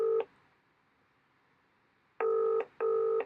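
Telephone keypad dialing tones sound while a call is placed: one short beep, a long silent gap, then two more beeps close together near the end, each crisp and clear with no talking.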